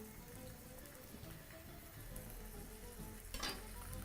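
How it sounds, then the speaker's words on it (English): Bacon-wrapped beef sizzles steadily in a hot pan, a continuous frying crackle at moderate level with no talk, a brief sharper spatter near the end. "place that onto your hot pan and allow to continue grilling"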